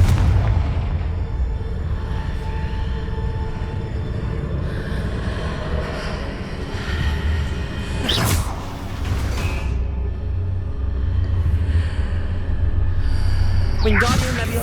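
Confringo blasting curse in Hogwarts Legacy: a constant rumbling background broken by two sharp explosive blasts midway and another near the end, under game ambience.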